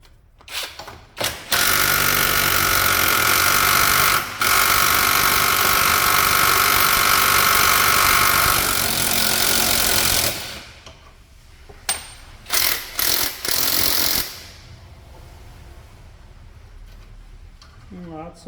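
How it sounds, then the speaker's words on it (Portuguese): An impact wrench loosens tight suspension bolts on a Dodge Dakota truck, a loud sustained rattling whir lasting several seconds, pausing, then resuming, followed by shorter bursts, with people talking in the background. "Peguei a chave sim, tá lá na chave de impacto."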